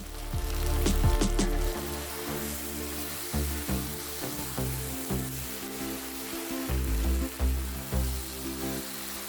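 Cooked chicken and raw banana pieces sautéing in a pan for a Kerala-style roast, with a steady broadband sizzle, scattered clinks and stirring scrapes, and a low hum underneath.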